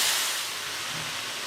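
Vegetables sear in a hot carbon steel wok with a steady, broad sizzling hiss that eases slightly after the first moment and then holds level, with no talking.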